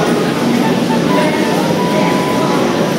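A Howrah–Ranchi Express train rumbles at a platform in Howrah station with a steady low drone and faint squeals, while people talk nearby.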